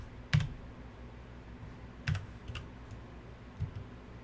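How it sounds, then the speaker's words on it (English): A computer keyboard is being typed on during an EverQuest crafting session, with three short bursts of quiet clicking keystrokes separated by pauses against a faint background hum. "I'm just typing like a generic word just to see"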